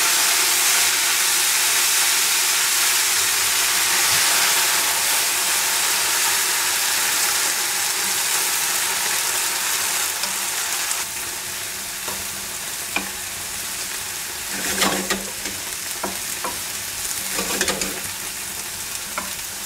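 Leeks sizzle and fry in a pan after white wine is poured in, a steady loud hiss that softens partway through, with occasional stirring scrapes near the end.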